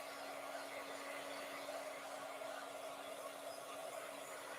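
A hair dryer blows continuously with a faint, steady airy roar and a constant hum, heard alone without speech.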